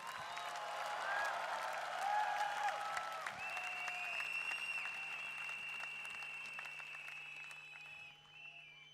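Audience applause for Mr. Sati Senati Raja at a business success event in Indonesia, a sustained wash of clapping from a crowd that holds steady for several seconds before tapering off, with music tones ringing over it.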